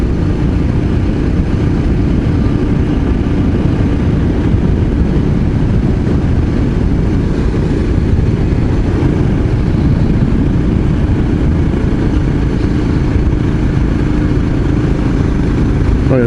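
A Royal Enfield Scram 411 motorcycle labours along a country road, its engine droning steadily and loudly under heavy wind rush for the whole stretch, with no clear pauses.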